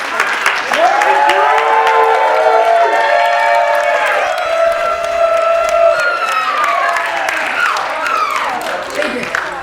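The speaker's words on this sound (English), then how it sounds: "a round of applause." Loud applause from a crowd fills the room, with cheering and a few whoops rising over the clapping as voices call out.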